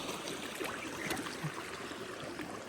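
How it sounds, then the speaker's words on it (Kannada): Water flowing from a pipe outdoors near fields, a steady, close rushing and trickling wash with small gurgles, continuous and unbroken, with no talk over it. "ಜುಳು ಹರಿಯಾಗುತ್ತವ ನೀರು"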